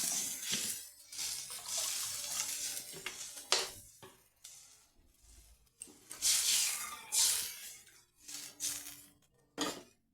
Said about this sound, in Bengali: নুন হলুদ মশলা ফোড়নের মশলা দিয়ে আমি একটু ঝোল বানাচ্ছি জল দিয়ে পর্যাপ্ত পরিমাণে জল দিলাম